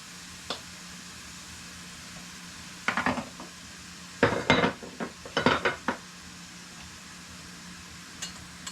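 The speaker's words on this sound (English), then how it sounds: "So I'm going to let these saute." Butter and hamburger steak sizzle in a vintage Chefs Ware model 600 electric skillet, a low steady hiss under a few close clatters and scrapes of a utensil against the pan, with no speech.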